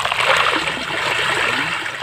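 Water steadily draining from a small backyard fish pond used for raising tilapia and gourami, a continuous close trickling and rushing flow with no break.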